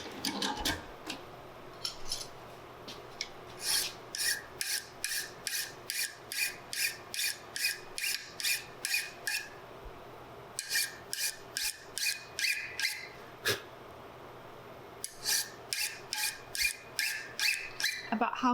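Wooden parts from a Southern Mountain Rifle muzzleloader kit being trimmed by hand, giving steady rhythmic rasping strokes, close and fairly loud, with brief pauses between bursts of filing.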